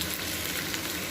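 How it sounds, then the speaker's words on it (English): Onions frying in a pan for biryani, caramelizing to a deep colour, give a steady, dense sizzle that carries on unbroken at close range, with no voices. "Not exactly burn it, but what we say is caramelize the onions"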